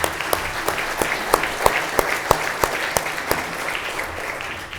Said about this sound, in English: That in and of itself deserves a round of applause.